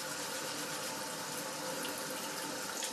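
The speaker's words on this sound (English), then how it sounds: "Rinse it." A tap runs steadily at full flow while hands are rinsed under it, with a constant loud hiss and splash and no voices.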